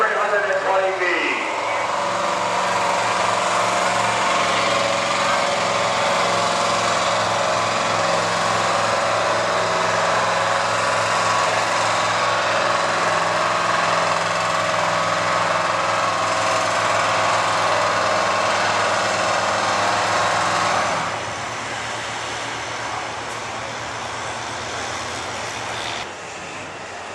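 A Dodge 4x4 gas pulling truck in the 6,500 lb class roars at full throttle at an Urbana, Ohio truck pull, a loud sustained engine drone that drops off near the end, with voices under it.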